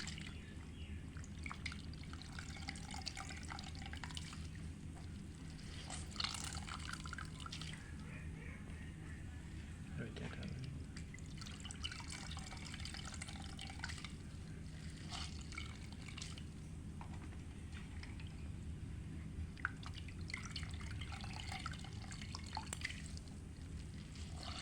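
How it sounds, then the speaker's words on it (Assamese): Water is squeezed by hand out of khorisa, fermented bamboo shoot, producing a long stretch of soft, close dripping and trickling, with wet squelching bursts now and then and steady background noise throughout. "এয়া মই চেপি ল'লোঁ, টানকৈ চেপি ল'লোঁ, পানীখিনি শুকুৱাই ল'লোঁ"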